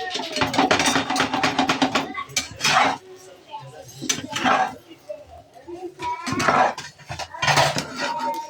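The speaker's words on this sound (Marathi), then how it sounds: "हे असं मिक्स करून घ्यायचं, चांगलं हलवून परतून घ्यायचं" Vegetables stirred and sautéed in a pan with white pepper and a little Ajinomoto, giving repeated scraping and clattering bursts of the utensil against metal, close and loud, alternating with a voice speaking.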